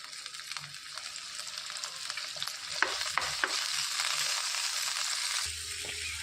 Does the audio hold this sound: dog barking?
no